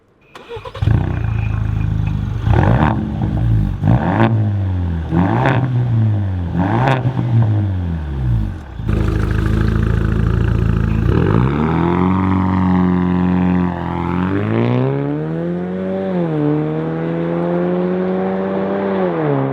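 Ford Maverick pickup with an MRT single-outlet straight exhaust, muffler removed, revving loudly close up: four sharp throttle blips in a row, then a long sustained rev that climbs, dips and rises again.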